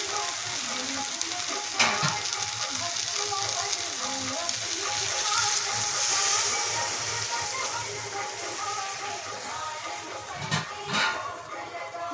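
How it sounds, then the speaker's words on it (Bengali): Water poured into a hot pan of boal fish kalia curry, a loud continuous sizzle and frying hiss close up, with a few clanks from stirring. "এবার জল ঢেলে দিই"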